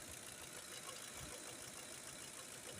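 A Lincoln 5.4 engine runs steadily during diagnostics, a constant close mechanical drone with faint knocking, suspected worn boots and injector trouble, with no talk over it.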